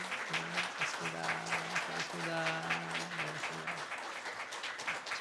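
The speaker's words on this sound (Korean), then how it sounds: "뒤로 돌아서서 박수할 때 뜨겁게 박수해 주시고 축하해 주시기 바랍니다" A church congregation claps together in a quiet, steady patter, with a voice speaking briefly over the applause.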